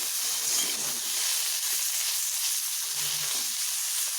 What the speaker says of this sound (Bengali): ঢাকা খুলে আমি আরও একটু এইভাবে নেড়ে ভেজে নিচ্ছি